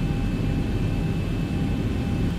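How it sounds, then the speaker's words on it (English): Boeing 737 jet engines in X-Plane 11 holding steady taxi thrust, a loud, constant broadband roar with a faint high whine, alone and unchanging. "I have to add some thrust here"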